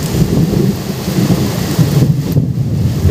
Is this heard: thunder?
yes